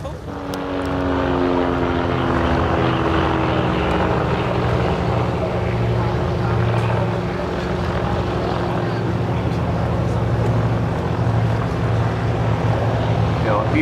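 A high-winged propeller aerobatic aircraft drones loudly overhead at an airshow, its engine pitch sliding down and then holding a steady rough buzz as it turns in a stall turn.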